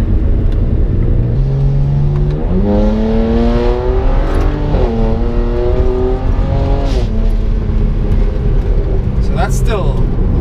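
BMW 335is with full bolt-on modifications pulling hard at partial throttle, engine note rising steadily in pitch across several upshifts, loud and continuous from inside the car, with speech over it.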